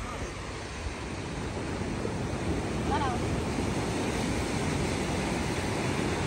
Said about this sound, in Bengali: আর ঠান্ডা ভালোই হাওয়া